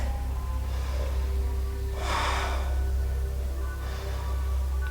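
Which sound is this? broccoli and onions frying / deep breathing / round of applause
deep breathing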